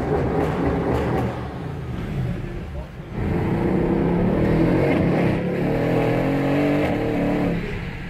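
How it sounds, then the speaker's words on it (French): Mercedes CLS 63 AMG shooting brake, 2017, Renntech-tuned to 740 hp, accelerating hard with a deep, rising engine roar that dips briefly then surges again, loud and sustained, with a voice talking over it. "le son, c'est le son caractéristique des 63 AMG, donc un son très,"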